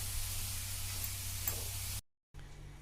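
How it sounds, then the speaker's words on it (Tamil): Grated carrot and coconut sauté in ghee in a kadai, giving a steady close hiss of sizzling that cuts out briefly and then resumes. "கேரட்டு தேங்காவை நெய்யிலேயே நல்லா வதக்கி விட்டுக்கலாம்."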